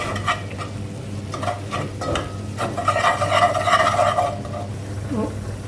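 A whisk stirs flour into a roux in a pan for lasagne, giving a steady scraping and swishing with soft sizzling underneath, loudest midway and fading near the end.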